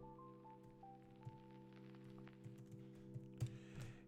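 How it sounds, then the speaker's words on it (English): Light keyboard typing, soft irregular key clicks tapping under a steady low electrical hum, fairly close and quiet, with a few sharper keystrokes near the end. "Let me type it in."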